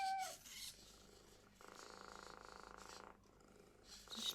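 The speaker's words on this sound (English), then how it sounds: "She's purring because I'm stroking the back of her head now" A Metacat robotic pet cat purrs softly while its head is stroked, a low rumbling purr that comes in separate stretches with quiet gaps between.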